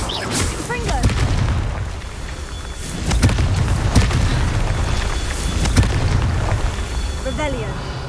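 Repeated Confringo fire-spell blasts in Hogwarts Legacy, several sharp booming bursts spread across the stretch amid game ambience, with a voice calling out spell names in between.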